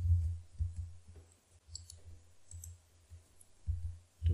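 Computer keyboard typing heard up close, soft irregular clicks and thumps in short bursts separated by pauses, with no voices.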